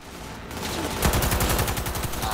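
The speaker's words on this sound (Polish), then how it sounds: "O, jakiś kurde ziomek do mnie strzela." Sudden burst of rapid gunfire from an enemy in Cyberpunk 2077, a loud rattling volley of closely spaced shots that keeps going after a quieter lead-in.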